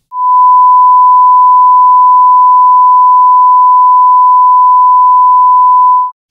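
A steady 1,000 Hz sine test tone holds one pure, unwavering pitch at loud, even level for about six seconds, starting and stopping cleanly with nothing else heard.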